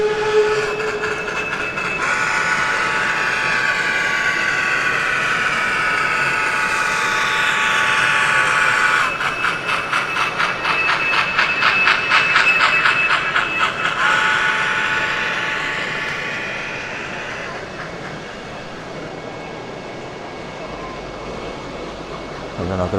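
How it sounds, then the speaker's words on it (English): A model railway locomotive runs across a scenic exhibition layout at a model railway show, giving a long steady whirring motor drone that swells and fades over a busy hall hum. "I cannot resist catching a loco crossing some scenery."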